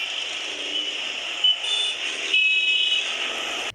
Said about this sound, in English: So these sounds of transport really irritate us.